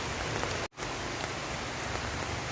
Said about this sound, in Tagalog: Yan muulan.